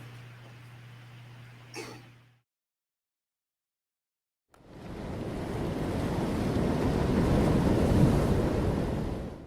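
Ocean waves wash onto a beach at night in a broad, steady roar with wind noise, rising after a brief silence and holding full and close to the end.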